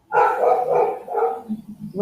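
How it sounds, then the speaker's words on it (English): Dogs bark out back behind a home while a conversation goes on: a single loud, close bark followed by a fainter, trailing yelp. "That barking does not come from my background."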